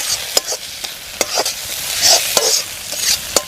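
A spatula stirs onion, ginger and garlic frying in a pan for a Kerala-style chicken pepper fry. Loud, close scrapes and clacks repeat irregularly over a bright, hissing sizzle, with no speech.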